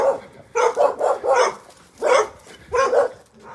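Dog barking at a local junkyard, a series of loud, close barks in uneven bursts of two and three, alone with no talk over them.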